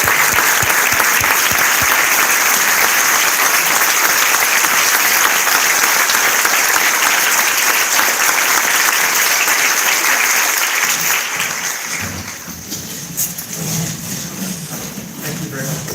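An audience keeps clapping steadily for an award winner at a cancer charity gala, the dense applause thinning and fading out after about eleven seconds, leaving quieter room noise and a voice.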